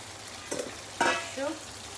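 Green chilli chicken with fresh coriander leaves sizzles in a pan, with a low steady frying hiss broken by two or three brief stirring scrapes nearby.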